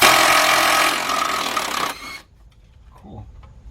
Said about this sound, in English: Okay, 17mm bolts. So I'm going to use my impact driver.